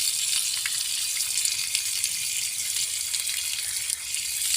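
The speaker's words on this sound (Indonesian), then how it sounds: "Yang penting kemudian kita pakai air mengalir supaya benar-benar bersih" Tap water streams steadily over caladium plant roots as they are rinsed clean, a constant broadband hiss close by with no speech, briefly dipping near the end.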